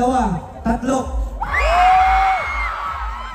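A crowd at a film festival parade of stars lets out a loud, sustained shout and cheer, voices rising together into whoops after a few brief calls.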